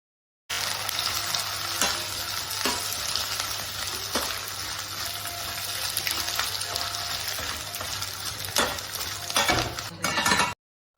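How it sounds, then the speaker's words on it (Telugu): Cornflakes frying in hot oil for a street-style munta masala snack: a dense, steady sizzle and crackle throughout, with occasional clinks and scrapes of a utensil stirring in the pan, close and loud, no talking. "ఆయిల్ హీట్ అయ్యాక వీటిని వేసుకొని ఫ్రై చేసుకోవాలి."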